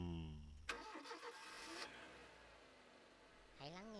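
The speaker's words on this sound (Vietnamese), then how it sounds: "Hãy chuẩn bị lắng nghe động cơ của nó." A muscle car engine cranks and fires up with a sharp start, then settles into a rumbling idle before a revving rise at the end, heard alone without talk.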